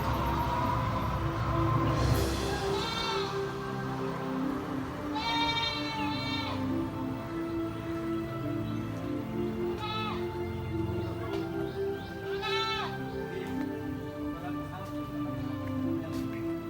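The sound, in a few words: goats bleating on a mixed farm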